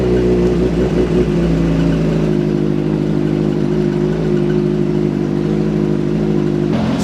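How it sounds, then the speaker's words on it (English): A 2008 Suzuki GSX-R750 sport bike idles steadily after starting, its engine holding a loud, even, close-up hum through the whole stretch, with a slight change in pitch early on as it settles into warming up. "I'm going to go ahead and fire the bike up. Let's get it warmed up."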